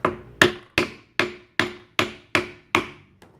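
A chair caster is hammered into the hole in a chair frame: eight sharp, evenly spaced strikes at close range, each a loud crack with a short ringing decay, trailing off in a final lighter tap.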